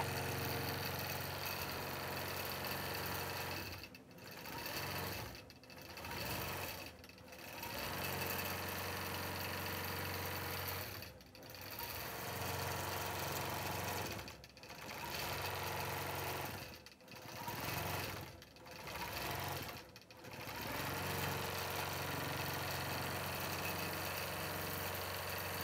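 Statler computerized quilting machine stitching straight stabilizing lines across a quilt block, a loud continuous mechanical buzz with brief pauses scattered throughout.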